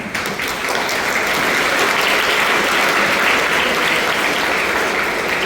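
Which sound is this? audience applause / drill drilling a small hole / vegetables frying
audience applause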